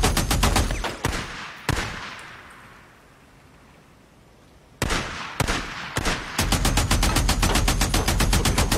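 Gunfire in a zombie survival video game: loud bursts of rapid automatic shots, then a lull of fading echoes, then more sustained rapid-fire volleys close up, with no talking.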